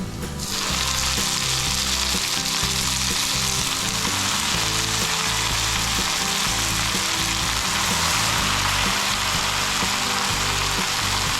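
Jute leaves hit hot oil with frying onions in a pan, a loud, steady sizzle running unbroken throughout, close and dense, with no voices.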